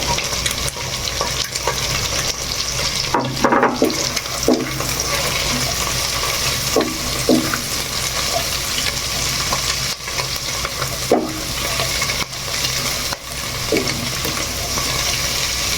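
Capsicum and spring onion stir-frying over high flame for vegetable noodles, a steady loud sizzle with intermittent scraping stirs and light clinks of the utensil against the pan throughout.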